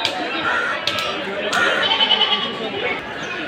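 Goats at the Deonar goat market in Mumbai bleat intermittently amid a busy, noisy crowd, with people talking throughout and calls rising over the steady market chatter.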